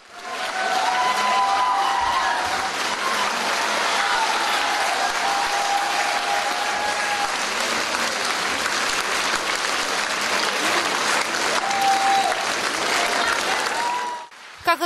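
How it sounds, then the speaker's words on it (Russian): Dense, steady applause from a ballet audience giving the Imperial Russian Ballet company an ovation after Romeo and Juliet, a continuous wash of clapping that fills the hall and then cuts off abruptly. "Зал аплодировал стоя"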